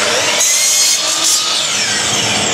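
A power saw cuts a mitre across a wooden box side for a handmade pen case, a loud, close, continuous whining cut that shifts pitch slightly as the blade bites.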